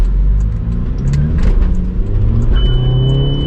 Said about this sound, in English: we'll just do a little one-wheel peel coming out of the neighborhood.